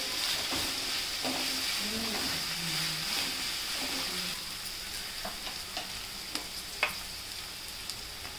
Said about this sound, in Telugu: ఈ ఆనియన్స్ అంతా గోల్డెన్ బ్రౌన్ వచ్చేంత వరకు వేపుకోవాలి